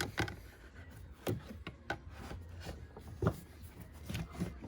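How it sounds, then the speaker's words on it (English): Screwdriver prying the two retaining tabs on an Audi Q5 fuse box and the box sliding into its frame: a series of short scraping and clicking knocks of plastic, close and moderately loud, with no voice. "Now get your fuse box back in, but remember there are 2 tabs that you need to pry to get into the frame."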